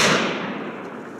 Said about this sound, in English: make a well-placed shot on the buck